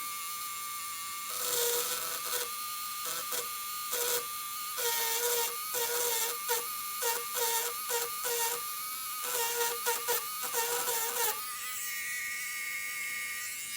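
A Hardell electric engraving pen buzzing against metal as it writes letters, heard as close, high-pitched vibrating whines that start and stop in short bursts and strokes, then a steadier hum at the end.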